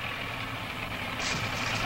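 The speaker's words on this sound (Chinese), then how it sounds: "拖拉机。" A tractor engine runs steadily, close by and loud, with a low throbbing rumble that stays level throughout and picks up slightly toward the end; there is no speech.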